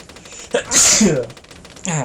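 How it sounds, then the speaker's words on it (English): A single loud, close sneeze with a sharp burst, preceded by a short inhale and followed by a breathy exhale. "I kept feeling I was gonna sneeze."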